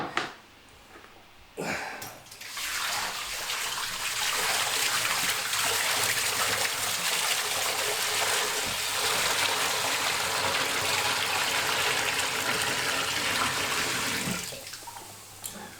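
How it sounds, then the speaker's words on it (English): A big bucket of water tipped into an aquarium tank: after a few knocks, a steady loud gushing pour runs for about twelve seconds, then stops abruptly. "I'm very careful when I'm tipping a big bucket of water into a tank like this"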